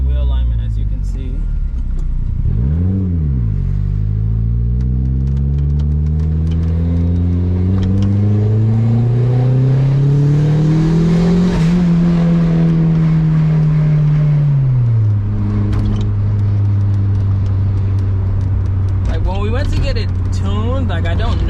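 A Mazda Miata drives in second gear with the windows down, its engine loud and close, revving up and down in long sweeps with road and wind noise, and someone talking over it.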